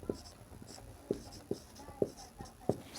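Chalk or marker tapping and scratching on a board while a formula is written in a maths class, a series of short, distinct strokes at an irregular rhythm, fairly quiet and close.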